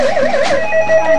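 A novelty Harley Davidson telephone rings with a loud, warbling electronic trill that wavers up and down, close and alone.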